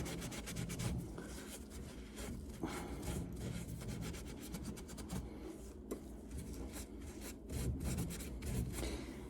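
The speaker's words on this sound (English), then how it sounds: "now we take a little soft cloth and we wipe off the excess" A soft cloth wipes excess filler off wooden furniture, giving quiet, continuous rubbing and brushing strokes close by in a repeating rhythm, faint and without talk.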